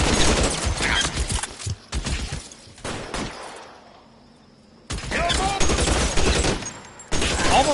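Bursts of rapid gunfire in the crime game L.A. Noire, loud and close, several volleys separated by a short lull with fading echoes, and voices shouting between shots.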